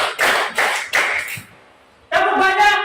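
Three quick rhythmic hand claps, close and crisp, followed after a short pause by a voice speaking.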